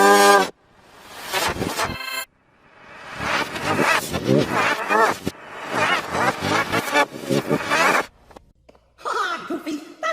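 A cartoon voice imitates a cow, mooing in several long, loud, drawn-out calls, with talk from cartoon characters in between.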